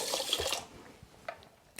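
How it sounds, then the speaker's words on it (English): Chili soaking water poured into a bowl of homemade Mexican salsa, a soft splashing trickle in the first half-second that fades into faint drips and small clinks, quiet and close. "We're going to add some of our water to it, some of our soaking water."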